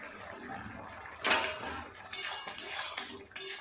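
Potato curry stirred in a pan with a spoon, giving a few sharp metallic scrapes and clinks in separate bursts over a soft steady background, close by, with no talking.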